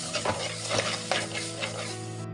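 A thick paste of ground sautéed tomato and onion is stirred around a pan for cauliflower gravy, a steady scraping and soft sizzle that holds close and even, with a few louder scrapes of the spoon, then cuts off abruptly.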